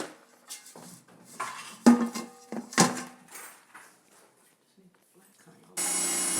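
A plant pot is handled while repotting a giant taro, giving a few scattered knocks and clattering clunks close by, with some voice nearby, then a burst of steady noise at the end.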